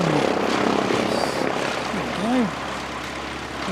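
Aircraft engines spool up at an airport, a broad steady roar with a rising whine, heard from a distance over wind and faint background voices.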